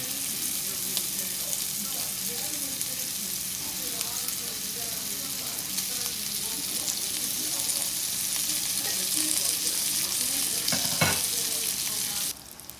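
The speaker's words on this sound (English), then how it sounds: "And I'm going to let the fat render from the bacon." Bacon sizzles steadily in a hot pan on low heat as its fat renders, a continuous close crackle with a brief louder hiss near the end.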